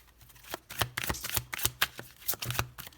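Tarot cards being shuffled close up, a rapid series of crisp papery riffles and slaps in an uneven rhythm, loud and alone without talk.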